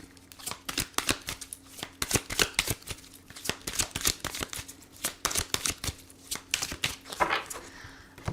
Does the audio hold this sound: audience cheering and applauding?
no